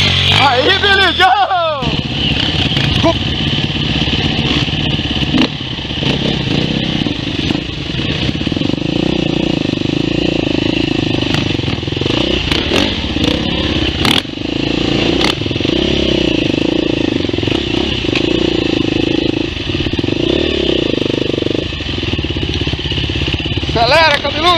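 A motorcycle engine revs and drones continuously on a dirt trail in the Serra da Canastra, loud and close, with rider voices and scraping clatter over the engine.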